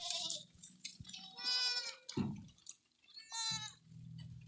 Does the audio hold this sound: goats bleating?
yes